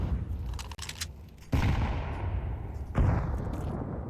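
A grenade thrown during a Counter-Strike match on the Anubis map, with two sharp booming bursts a moment apart and a rumbling tail under steady game ambience.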